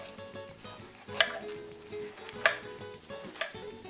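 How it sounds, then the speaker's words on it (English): Kitchen knife chopping cabbage for coleslaw on a cutting board, a few distinct sharp chops spaced over a second apart with soft handling sounds between, close by. "we're gonna be chopping that up a little bit more"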